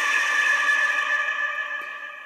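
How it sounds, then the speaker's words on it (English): A harsh, shrill electronic jump-scare scream from the video game Five Nights at Tubbyland blares loud and sustained, then slowly fades over a couple of seconds. "And this is the sound of the scream."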